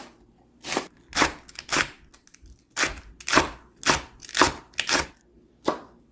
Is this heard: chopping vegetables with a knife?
yes